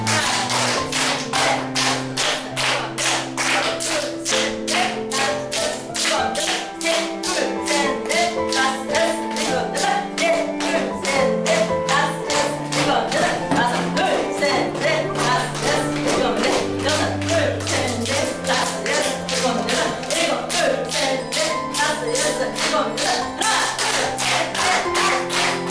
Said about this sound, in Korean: 건강 박수 한번 치고 시작하겠습니다.